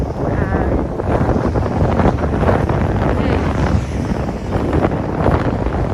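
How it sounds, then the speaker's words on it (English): Steady wind buffeting the microphone near Tokyo Station, a loud low rumble throughout, with a brief spoken word near the start. "Yeah, so windy today."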